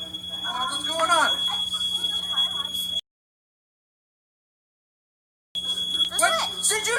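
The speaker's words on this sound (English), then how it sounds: "The alarm just went off." A building fire alarm sounding with a steady high-pitched electronic tone, continuous and loud under excited voices talking over it, cut off by a stretch of silence before resuming.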